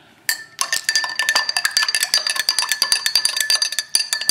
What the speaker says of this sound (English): Now we're going to get our stirring spoon.